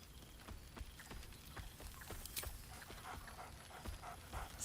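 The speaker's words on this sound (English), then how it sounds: "Scratch barks merrily in something like agreement." Scratch the dog from Baldur's Gate gives a few soft, scattered barks over a low, busy game ambience, the yips short and spaced rather than a steady run.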